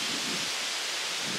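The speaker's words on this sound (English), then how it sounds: "That wind's really going today." Steady wind blowing across an outdoor campsite where chicken and dumplings cook on a camp stove, a broad continuous rushing hiss with no talk.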